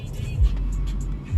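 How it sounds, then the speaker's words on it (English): A Chevrolet Corvette C8 pulls up nearby, its engine giving a low steady rumble with deeper swells at the start and end, while people talk excitedly over it. "when you think your car cool and then a C8 pull up"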